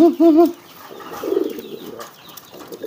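Pigeons coo in a few short, rounded calls close by at the start, then quieter cooing and soft rustling follow during a first hand-training session.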